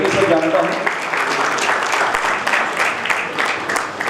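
An audience at a teacher and student award ceremony claps for an honoree, the applause dense and steady while voices mix in underneath.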